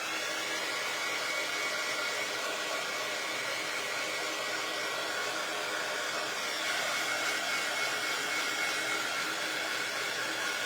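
A hair dryer blowing steadily to dry fresh paint, a continuous, even roar of rushing air held at a constant level for the whole stretch with no pauses.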